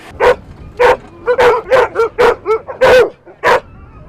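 Sled dogs at a sled dog race bark and yip loudly and close by, about a dozen sharp barks in an uneven rhythm with brief pauses between them.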